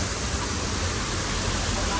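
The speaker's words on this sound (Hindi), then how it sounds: "कहाँ से पानी आ रहा है, वाह वाह" River water pours along a mountain valley between Pattan and Kohistan, making an even, loud broadband rush that continues unbroken throughout.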